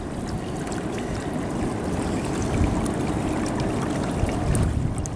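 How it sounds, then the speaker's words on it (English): A mudlarked clay pipe from the Thames foreshore being rinsed in water, a steady close sloshing and trickling with gentle splashes, no voices. "let's give it a little rinse and see what's going to be revealed here"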